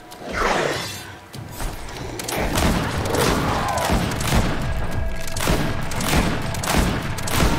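Gunfire in the fantasy action game Greedfall: a dense, sustained volley of loud, sharp shots and crackling impacts with booming thuds, repeating in bursts across the whole stretch with no voices over it.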